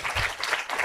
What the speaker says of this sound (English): Can we have a big round of applause once again, ladies and gentlemen?